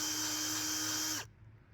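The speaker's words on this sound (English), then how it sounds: "my hand cannot stop the drill, and that's some good friction" A handheld power drill spinning at full speed while pressed against a bare hand, a steady high whine and rattle that cuts off abruptly near the end, close and loud.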